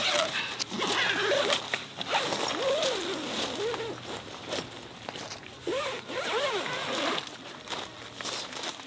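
Zipper on the door of a Helsport Varanger Dome 8-10 tent being pulled open in long repeated strokes, up close and fairly loud, with rustling nylon fabric between pulls.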